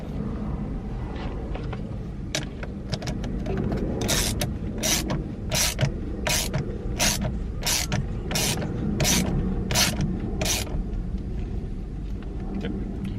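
A torque wrench tightens the steering wheel bolt on a 2008 Mercedes-Benz C-Class W204, making a run of about a dozen evenly spaced, sharp ratcheting clicks close by over a low mechanical background.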